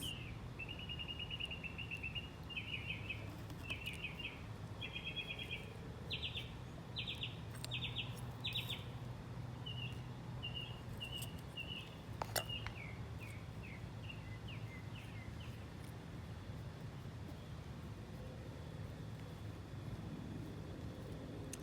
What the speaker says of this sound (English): if I stay quiet for a little bit, it's just so that you guys can enjoy the birds